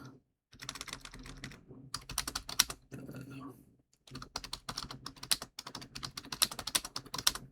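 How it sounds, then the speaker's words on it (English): Rapid clattering keystrokes on a computer keyboard come in dense bursts, close and clear, with a short pause partway through before fast typing resumes. "hopefully you guys can actually hear the typing"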